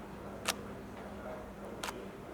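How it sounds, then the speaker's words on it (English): A Nikon D7000 DSLR shutter clicks twice, about a second apart, crisp and close in a quiet room. "Hit the shutter."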